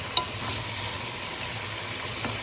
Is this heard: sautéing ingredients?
yes